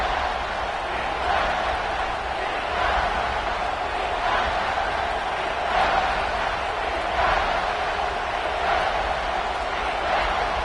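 A loud football stadium crowd roars continuously on a third-and-goal play, a dense wash of cheering voices with gentle swells.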